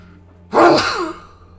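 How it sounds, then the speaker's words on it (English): A single close sneeze bursts out suddenly, loud and breathy with a sharp onset, then trails off over about a second into quiet. "I may sneeze."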